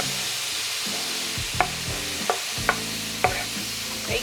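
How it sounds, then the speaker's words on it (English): Tomatoes sizzling in a pan on medium heat while a utensil stirs them, with a steady frying hiss broken by several sharp scrapes and knocks against the pan. "we are going to cook this on medium heat until the tomatoes soften"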